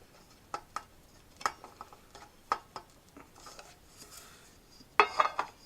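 Intermittent clinks and rattles of an old scout mess kit, metal plate and pan knocked together while being handled, a few sharp taps spaced irregularly with a louder cluster of clatter at the end, close and fairly quiet.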